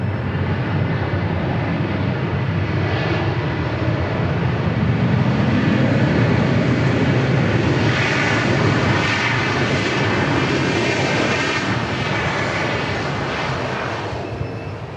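A jet airliner arriving at Dallas Love Field, a broad, steady engine roar holding loud for the full stretch, swelling slightly in the middle and easing a little toward the end, with no voices.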